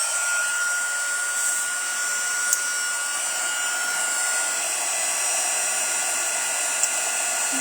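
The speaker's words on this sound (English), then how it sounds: "Let's bring our heat gun back over here." A heat gun blows hot air in a steady, loud, high-pitched whine that runs without a break, with a couple of faint clicks over it.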